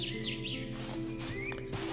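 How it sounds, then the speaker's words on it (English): Birds sing in a Minecraft world running the Hightail modpack, with a few short chirps and warbling calls over steady game ambience and a low background hum. "I like how in Hightail they got birds floating around singing"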